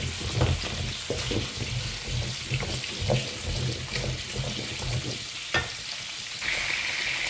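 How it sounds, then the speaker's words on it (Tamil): Tomatoes stirred and sautéed in a frying pan for a chicken gravy, a steady close sizzle with repeated scraping stirs across the whole stretch and no talk. "இந்த தக்காளியை இதோட சேர்த்துருவோம். ரெண்டையும் நல்லா மிக்ஸ் பண்ணுவோம்."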